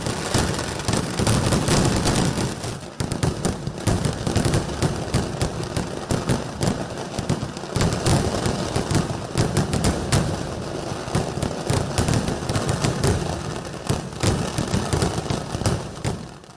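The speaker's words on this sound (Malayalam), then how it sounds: "ബഹുവർണ്ണാമ്പിട്ടുകളും ഗുണ്ടും കുഴിമിന്നിയും വെടിക്കെട്ടിന് വർണ്ണശോഭ നൽകി" Dense, continuous explosions and crackling bursts from the Thrissur Pooram 2024 sample fireworks display, with heavy booming shells and rapid firecracker-like volleys overlapping nonstop for the whole stretch, loud and close.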